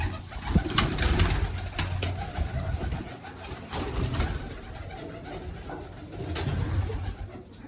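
Pigeons coo in soft, low, repeated calls against a steady outdoor background, rising and falling over several seconds.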